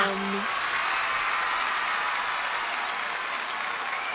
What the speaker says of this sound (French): Tout ce public m'applaudit!